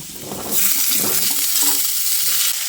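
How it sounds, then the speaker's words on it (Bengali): Cut pumpkin drops into a pan of frying potatoes, setting off a loud, steady hiss of sizzling oil with stirring scrapes, close up. "এবার আমি এর মধ্যে কেটে রাখা কুমড়োগুলো দিয়ে দিচ্ছি।"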